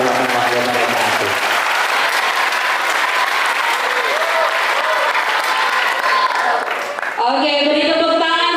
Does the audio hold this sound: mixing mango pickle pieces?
no